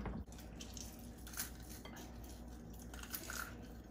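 Ingredients for Ethiopian zilzil tibs are stirred in a clay pan, with close, continuous clattering, scraping and light knocks of a utensil against the pan, and no voices.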